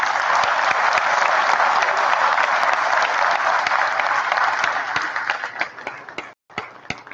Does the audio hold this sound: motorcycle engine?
no